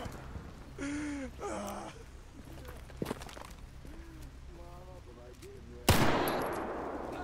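Gunfire in a free survival first-person shooter modeled on STALKER, with one sudden loud blast near the end that rings out and decays, preceded by quieter game sounds and faint voices.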